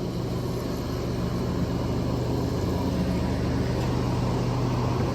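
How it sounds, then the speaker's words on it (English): A neighbor's lawn mower drones in the background, a continuous low engine hum and rumble that stays steady and unbroken with no speech over it. "Neighbors mowing the grass, if you can hear that in the background."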